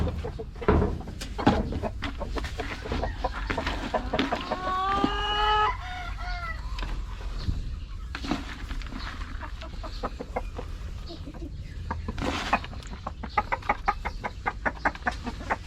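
Chickens cluck and squawk inside a cage on a poultry farm raising chicks to replace Rhode Island Reds, with one rising call sequence midway among steady busy clucking, close and fairly loud, with no talk.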